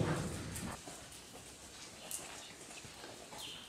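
Hooves of a show-jumping horse at a riding clinic, faint and a little distant, with soft irregular thuds over a quiet outdoor background and no talk.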